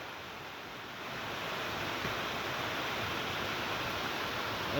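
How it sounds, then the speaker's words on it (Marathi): Steady, dense hiss of heavy rain falling on a soybean field, swelling slightly after the first second and then holding constant and loud. "यावर्षीचा सर्वात जास्त पाऊस पडत आहे आपल्या भागामध्ये"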